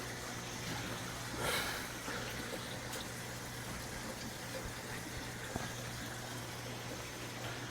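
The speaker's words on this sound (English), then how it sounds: "Still filling up water down below." Water running steadily into a fish tank in a fish room, a continuous faint hiss and gurgle with a low mechanical hum underneath, no voices.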